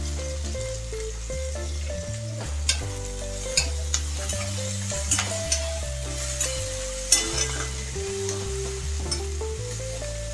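Slit green chilies sizzle and are stirred in hot oil with onions and a little salt, a steady close frying hiss with occasional scraping clinks, under prominent background music.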